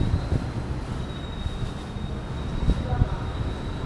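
The Gumarang passenger train from Jakarta to Semarang rumbles past with a steady low roar and clattering wheels, a thin high whine running through it.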